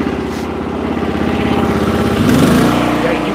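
A log splitter's small engine runs at close range, its throbbing idle climbing to a higher, louder pitch as it is throttled up while splitting big ash.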